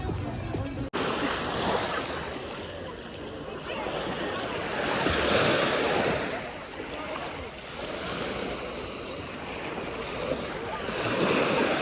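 Sea waves washing ashore on Golden Sands beach, a steady broad surf roar with gentle swells in loudness, mixed with wind noise across the microphone, continuous throughout.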